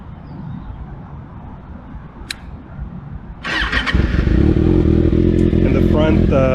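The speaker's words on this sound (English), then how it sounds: "Gonna start it up. Gonna show you the tail light, and you can hear the exhaust." Kawasaki Ninja ZX6R motorcycle with an aftermarket exhaust starting up after a quiet moment, catching with a sharp burst and settling into a loud, steady, close idle.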